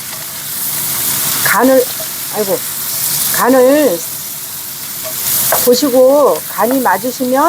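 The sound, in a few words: vegetables stir-frying in perilla oil, sizzling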